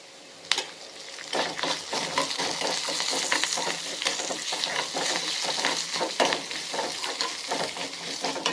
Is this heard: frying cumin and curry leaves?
yes